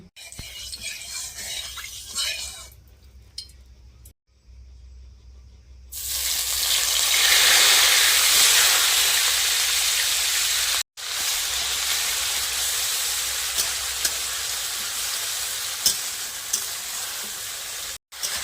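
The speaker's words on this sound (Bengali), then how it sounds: "তেলটা গরম হয়ে গেছে আর পেঁয়াজ আদা রসুন আর টমেটো একসাথে বেটেছিলাম এবারে এটা দিয়ে দিচ্ছি" A ground paste of onion, ginger, garlic and tomato hits hot mustard oil and bursts into a loud, steady close sizzle that carries on for several seconds, with some quieter handling noise first and a few brief breaks.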